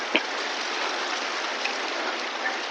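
A waterfall stream flows over rocks beside the mountain trail to Hemkund Sahib, giving a steady, even rush of water with no pauses.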